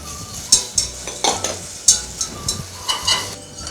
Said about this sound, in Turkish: Salçayı ekliyorum ve pişirmeye başlıyorum.